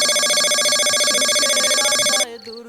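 An electronic phone ringtone chimes continuously and loudly, then cuts off abruptly and a voice follows.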